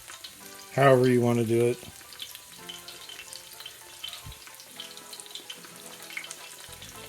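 Thin breaded beef milanesa cutlets fry in a pan with a steady, close sizzle and crackle that runs throughout; someone speaks briefly near the start over it.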